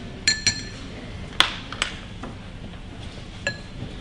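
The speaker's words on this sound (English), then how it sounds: "do one more little stir" Ice clinks and rattles against a glass as a gin cocktail gets a short stir, giving several sharp, bright chinks spaced irregularly over a quiet background.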